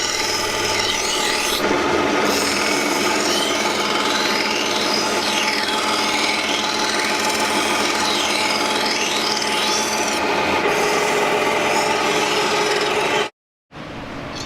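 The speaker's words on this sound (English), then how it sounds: "Sharpening with the coarse whetstone." Knife steel rasps steadily against a coarse whetstone in a traditional knife-making workshop, a continuous loud scraping friction with rhythmic strokes, broken by a brief silence near the end.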